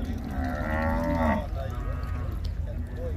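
A cow gives a loud, drawn-out moo close by at a cattle market in Ouricuri, Pernambuco, Brazil, followed by quieter lowing and background bustle.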